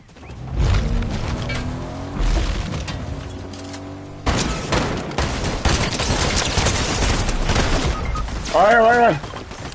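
Rapid bursts of gunfire from a Fortnite match, loud and dense, with clusters of shots over game effects and background music, and a voice chattering near the end.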